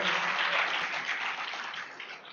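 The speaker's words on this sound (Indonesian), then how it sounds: "Aplaus buat Pak Ulung" An audience applauds for Pak Ulung at a business seminar, with dense, steady clapping from a crowd throughout that eases slightly toward the end.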